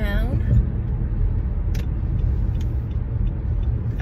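A Mercedes-Benz car passing close by on the road makes a steady rumbling drone of tyres and engine, with a couple of brief sharp clicks over it.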